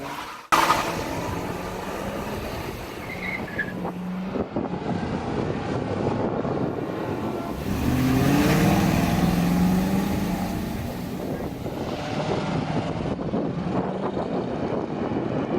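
A 2019 Ford Mustang GT PP1 V8 engine drones and revs steadily, loud and close, swelling in the middle as the engine works harder, with no talking.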